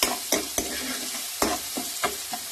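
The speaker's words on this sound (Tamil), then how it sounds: "நான் நல்லா ஃப்ரை பண்ணிக்கிறேன்" Vermicelli (sevai) stir-fried in a pan for lemon sevai: a steady sizzle broken by a handful of sharp, irregular scraping strokes of the spoon, close and fairly loud.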